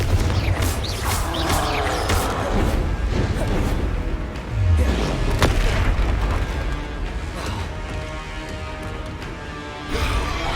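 Confringo blasting curse detonating in Hogwarts Legacy during a goblin dungeon fight, heavy booms and crashes rolling through a loud, busy battle with little talk.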